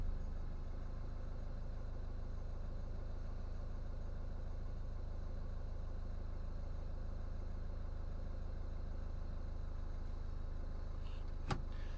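A Volvo or Ford with a Powershift MPS6 6DCT450 dual-clutch automatic gearbox running in drive, a steady low engine drone with no talk, ending in a brief click.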